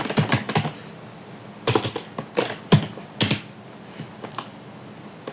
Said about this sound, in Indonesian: Kita ketik Netsh.